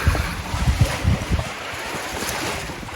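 Water rushing through a coffee washing channel on an Ethiopian farm, a steady close wash with heavier churning and splashing in the first second and a half as workers push against the flow, then a smoother continuous rush.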